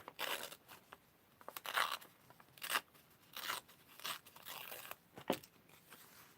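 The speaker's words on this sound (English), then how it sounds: "I'm just going to hold it there to try and make sure that I tear in a straight line." Paper is torn by hand in a straight line to make a card border, giving a series of short, close, crinkly rips in uneven bursts with brief pauses between them and no talking.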